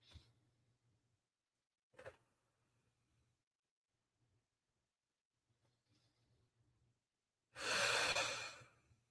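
Slow, quiet breaths are drawn during a twisting floor stretch, a few faint sighs spaced apart in a silent room, ending with one long, louder exhale.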